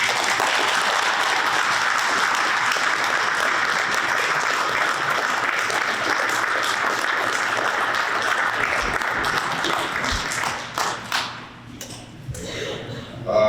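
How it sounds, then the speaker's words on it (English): Attendees at a town meeting applaud a retiring town employee, a sustained, even round of clapping that carries for about ten seconds before tapering into scattered claps and room noise with murmuring voices. "I'd like to give him a round of applause"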